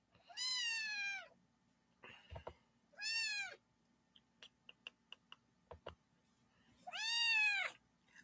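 A domestic cat meows three times, each call a clear, drawn-out cry with pauses between, separated by a run of faint clicks and ticks in a quiet room.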